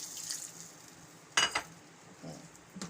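Water is sprinkled into a pan of bitter gourd and onion cooking on the stove, giving a brief sharp splash and sizzle amid soft utensil clinks and a faint background hiss.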